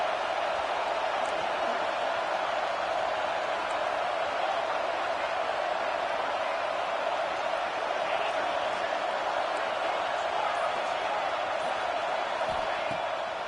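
A football stadium crowd roars loudly on a third-down play, a dense, steady wall of cheering and yelling from many voices that holds at the same level throughout.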